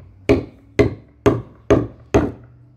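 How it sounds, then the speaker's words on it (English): A Cold Steel Koga hammer strikes a brick five times at an even pace, each blow a sharp, close, loud crack with a short decaying ring and no talk. "we'll just see if we can do a little damage to the brick. Same idea, just a hammer strike."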